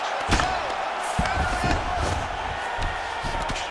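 Crowd applause in the UFC 5 video game, a steady roar of arena cheering and clapping that stays even throughout, with a commentator's voice talking over it.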